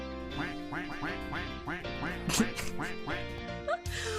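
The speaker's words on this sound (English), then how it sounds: "to wear a duck costume and to walk around with quacky shoes for a while" Rapid, repeated quacking comes from duck-costume shoes as a character walks around in Minecraft; the bright squeaky quacks sound in a steady stepping rhythm over background game sound, with no talk.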